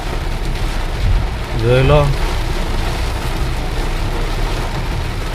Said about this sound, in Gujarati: વરસાદ ફૂલ ચાલુ હોય